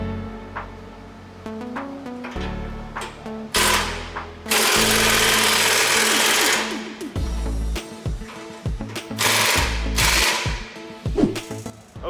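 Car exhaust after an exhaust leak was fixed, with an engine rumbling and then revving in loud, rough bursts, some sustained and some short and choppy, heard up close without talk.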